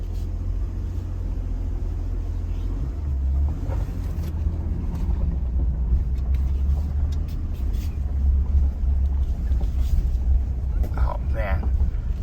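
A 2022 Toyota Tundra SR5 TRD Off Road climbs an off-road trail, its engine a steady low rumble heard from inside the cab with road and wind noise, continuous and moderately loud while people talk over it.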